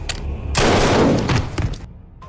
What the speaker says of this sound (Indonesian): dan tiba-tiba, meski sedang terluka, Mirko berhasil bangkit dan menembak musuh yang menikamnya